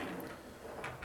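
A drawer in the base of an old pine cupboard with sliding doors slides open or shut, giving a soft, faint wooden rub and knock in a quiet room.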